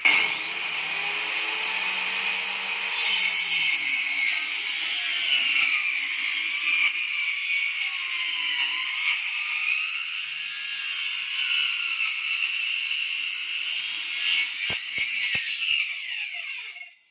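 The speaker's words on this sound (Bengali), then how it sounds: "দেখতে পাচ্ছ এই কাঠগুলো কাটবো এবার।" Wood is cut on a powered cutting machine while making door panels, giving a steady, loud whining buzz that holds for the whole stretch with no voices.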